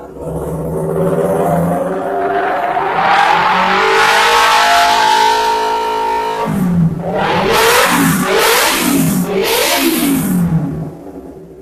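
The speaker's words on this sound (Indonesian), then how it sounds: "suara mesin dan suara knalpot ya, sudah kita coba" A Kawasaki Ninja 250 FI ABS limited edition motorcycle with a modified aftermarket exhaust revs hard and loud up close, one long climbing rev and then a series of quick blips, no voices.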